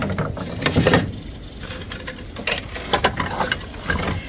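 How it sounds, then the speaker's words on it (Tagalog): Pork barbecue skewers grilling over heat give a steady close hiss and sizzle, broken by small crackles and pops. "Mag-barbecue tayo. Pork barbecue."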